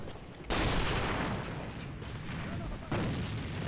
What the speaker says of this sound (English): This new nade sounds so weird